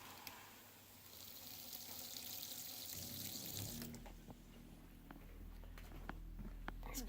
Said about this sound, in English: This is our kitchen faucet. That's the hot side,